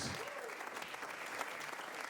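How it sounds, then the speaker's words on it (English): Applause from an audience at a live improv comedy show, fairly soft and distant, a continuous even patter of many hands clapping throughout. "let's give a round of applause to all the improvisers tonight"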